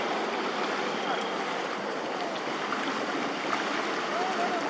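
Floodwater that has covered the ground in front of a hill for about a week flows with a steady, broadband wash of moving water that holds an even level throughout, with no clear voices.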